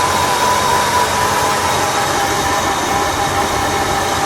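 The horn of a 1966 Buick Electra 225 Custom Convertible blares in one continuous, loud, steady blast that holds for several seconds, a deep freight-train-like bugle with no talk over it.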